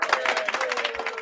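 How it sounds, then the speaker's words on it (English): A podcast studio audience claps and cheers, dense applause throughout at steady loudness, with a sustained tone running underneath. "a round of applause"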